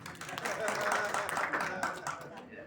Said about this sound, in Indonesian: Saya kira bisa tepuk tangan, Pak.